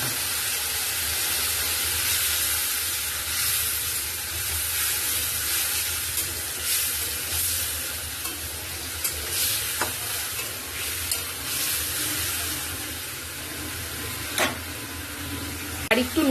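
A spice paste of ginger, green chilli, whole cumin and tomato fries in a pan, giving a loud steady sizzle and hiss with scraping stir strokes and scattered pops throughout, with no talking.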